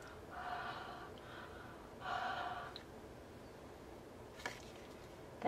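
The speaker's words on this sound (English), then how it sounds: "I'm going to breathe on the stamp." Breath blown onto a rubber stamp during card making, with two soft, close exhaled breaths followed by a faint click.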